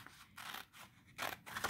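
Scissors snip through folded black paper to make strips, three or four short, crisp cuts in quick succession, close and fairly quiet, with brief pauses between them.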